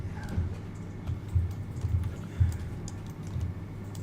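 Computer keyboard keys are pressed in a loose series of soft, close clacks, about a dozen taps spaced unevenly over a few seconds with no talking.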